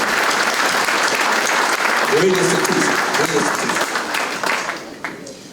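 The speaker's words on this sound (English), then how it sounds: "let's give dear mother a round of applause" An audience claps at a scholarship gala dinner, a dense, sustained wash of applause that carries on as someone speaks briefly over it, then thins and fades toward the end.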